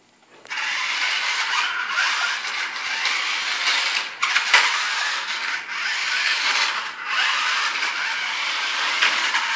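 A small remote-control stunt car races close by. Its electric motor gives a loud, high-pitched whirring whine that runs almost without a break, dipping briefly a few times as it changes speed or direction.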